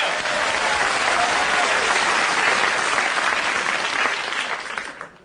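A large studio audience claps loudly and continuously, a dense roar of applause that holds steady and then fades out near the end.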